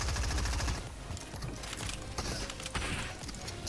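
Rapid rifle gunfire crackles in a video game firefight, dense overlapping shots and mechanical clatter running loud and steady throughout with no pauses.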